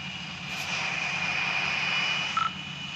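A MiG-19 jet in the Gunship 3 video game running its engine at takeoff throttle, a steady close roar with a thin whining tone on top and a brief beep near the end.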